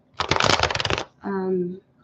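Tarot cards riffled in a quick shuffle, a dense burst of crisp rapid flicks lasting under a second, close and clear, followed by a short spoken voice.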